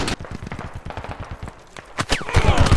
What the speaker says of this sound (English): Run towards the bullet fire!